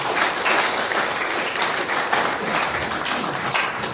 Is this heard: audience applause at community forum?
yes